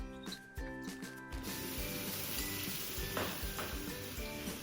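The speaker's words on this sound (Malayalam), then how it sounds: "നമ്മുടെ ഫ്രൈ പാൻ ചൂടായിട്ടുണ്ട്. ഓയിൽ ഒഴിച്ചു കൊടുക്കാം. ഇതിലേക്ക് ചോപ്പ് ഗാർലിക്, ജിഞ്ചർ ഗാർലിക് പേസ്റ്റ്" Chopped garlic and ginger garlic paste hit hot oil in a frying pan, opening with a few clinks before a bright, continuous sizzle and crackle that stays close and steady.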